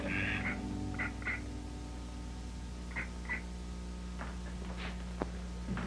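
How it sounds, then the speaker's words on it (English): A duck quacks in short bursts on a walk outdoors, several brief calls spaced a second or two apart over steady low background hum, with a few faint thin cries near the end. "Look at the duck, Mommy."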